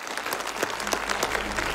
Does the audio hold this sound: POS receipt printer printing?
no